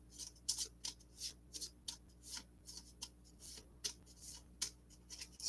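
Juggernaut threat cards for the Marvel United board game being shuffled by hand at close range, a quiet run of soft, regular riffling bursts and light card taps.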